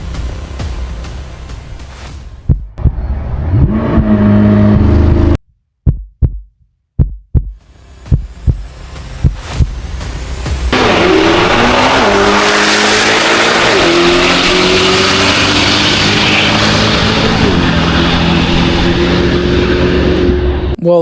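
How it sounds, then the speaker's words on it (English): A C8 Corvette ZR1 roars through a quarter-mile test run, its engine revving hard with sharp bursts and shifts before a long, loud, sustained acceleration that dominates, with brief gaps and pops midway. "we're going to watch it do a test run down a quarter mile"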